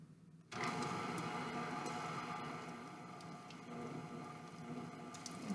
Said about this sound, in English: I'm going to beat this butter really well for 5 minutes at a low speed.